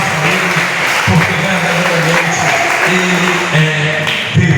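A church congregation applauds during a worship service, with steady clapping running throughout alongside sustained tones and a voice.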